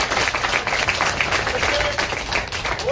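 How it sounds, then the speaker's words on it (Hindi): A crowd at a protest gathering in Rohtak claps for a soldier, dense continuous applause at close range with no clear pauses throughout. "फौजी के नाम की ताली बजाओ"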